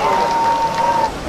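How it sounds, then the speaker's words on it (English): An audience claps to welcome the chief guest at the opening ceremony of the 23rd Hornbill Festival 2022. The applause is dense and continuous, with a faint ringing tone running over it. "shall we give our chief guest a warm round of applause to welcome him to the opening ceremony of the 23rd Hornbill Festival"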